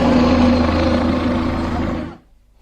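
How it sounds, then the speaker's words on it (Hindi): A helicopter roars steadily overhead at a crowded Maha Kumbh gathering of Naga sadhus, loud and close, with a continuous rotor and engine drone that cuts off abruptly. "हेलीकॉप्टर।"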